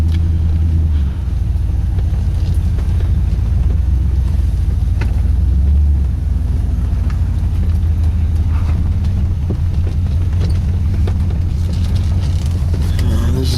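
A pickup truck rolls along a soft dirt road under oak trees, its engine giving a steady low rumble and road noise close up, with a few clicks and bumps from the cab.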